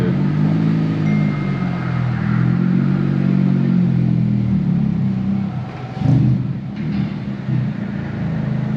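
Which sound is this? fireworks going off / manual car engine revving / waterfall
manual car engine revving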